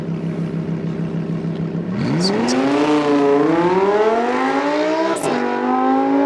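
A naturally aspirated Lamborghini Huracan drives on a race track, its engine droning steadily at first and then winding up sharply into a loud, rising howl, with a brief break before it climbs again.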